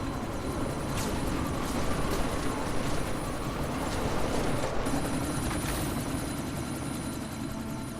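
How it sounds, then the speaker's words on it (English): A helicopter in the video game Deus Ex: Mankind Divided keeps up a steady, dense rotor and engine drone across the whole stretch, loud and continuous with no pauses and no voices. "you need to disable that chopper"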